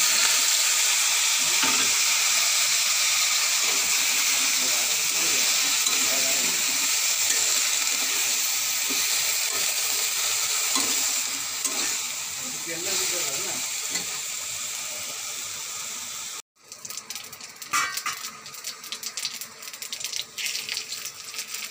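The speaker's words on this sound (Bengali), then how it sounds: "মাছকে ভেজে বাবার ওই ঝোলের মধ্যে দিয়ে দেবো" Fish frying in a pan, a steady hissing sizzle that holds for a long stretch, then cuts off abruptly and returns as scattered spattering crackles.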